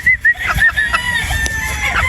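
A gamefowl rooster at a game farm crows loudly and close, with sharp clucking bursts at the start and then a sustained crow over steady background noise.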